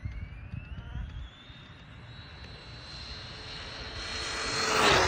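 An Arrma Big Rock 3S V3 RC truck on its stock motor accelerates, its whine rising steadily in pitch and getting louder toward the end, with no talk.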